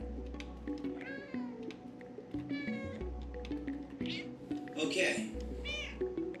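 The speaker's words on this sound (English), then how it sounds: "Press the meow button to meow." Meow calls from a cat character in a video game, triggered with a meow button; several short, high meows come in bursts, close and clear, over steady game music and background noise, with someone talking in between.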